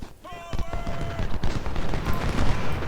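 Musket volleys and cannon fire rattle and boom in an American Civil War battle in a strategy game, with dense overlapping shots and heavier thumps rolling on continuously, plus a brief tonal game effect early on.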